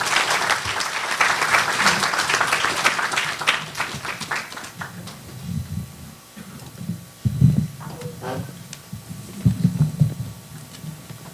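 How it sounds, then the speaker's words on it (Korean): Audience applause welcoming a lecturer to the podium at a university lecture rings out at first, fading after a few seconds into scattered low rustling and thumps. "큰 박수로 환영해 주시기 바랍니다"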